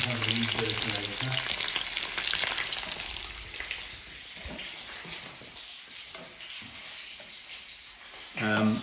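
Chicken pieces browning in a frying pan give a steady, close sizzle and crackle that fades somewhat toward the end, with a brief louder burst of frying at the close.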